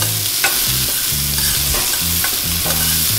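Two cloves of garlic and a couple of jalapenos sauté in a hot pan, a steady close sizzle under repeated scraping strokes of a utensil stirring against the pan, loud and without speech.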